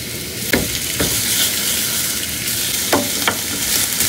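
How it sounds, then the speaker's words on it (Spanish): Beef liver frying with onion in a pan, a steady sizzle broken by several clear scraping stirs of a utensil. "Freír ya con la cebolla"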